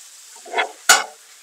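Tomatoes tipped into a pan of sautéed peppers give a soft stirring scrape followed by a sharp burst of sizzling that fades over about half a second, close and alone.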